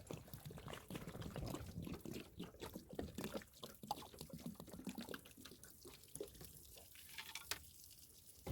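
Water runs and sloshes through a jug, washing out lead fragments from a Hornady SST bullet, with uneven splashing and trickling pulses close by that thin out toward the end, no talking.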